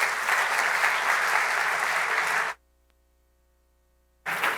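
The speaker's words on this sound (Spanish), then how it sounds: "Por eso yo le pido un gran aplauso para él." Dense applause from an audience at a conference event welcoming a speaker, loud and sustained for a couple of seconds, then cut to near silence before resuming.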